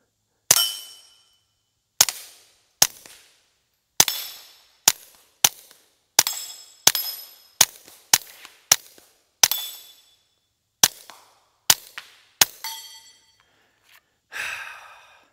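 A Kel-Tec P17 .22LR pistol fires subsonic ammunition in about thirteen sharp, close cracks at irregular intervals of roughly half a second to two seconds. A breathy exhale follows the last shots.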